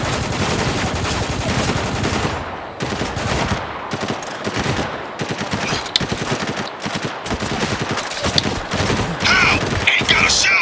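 Dense automatic gunfire in the shooter Spec Ops The Line, with sustained bursts and sharp individual shots layered into a loud, continuous firefight that barely lets up; combat shouting can be heard in the mix.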